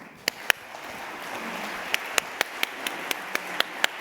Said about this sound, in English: please join me in a strong round of applause for David Grain